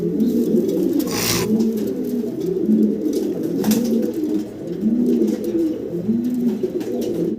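Pigeons at a pigeon farm coo in repeated, overlapping rolling calls, close and steady against a constant background hum, with no talking.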